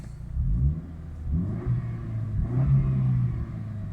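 A car engine revs and accelerates in a racing game, rising and falling in pitch through several gear changes, loud and steady with no talking.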